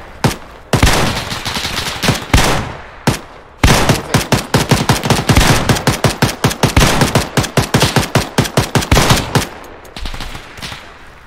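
Gunfire in a video game military battle during an amphibious operation, loud sustained automatic bursts with rapid rhythmic shots, several short pauses, then a long rattling volley before it fades.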